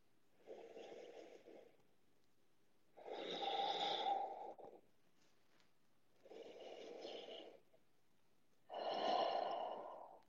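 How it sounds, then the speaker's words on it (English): Slow, deep yoga breaths drawn in and pushed out through the nose and mouth, four long airy swells alternating softer inhales with fuller exhales, close and intimate in a quiet room with no talking. "Breathing."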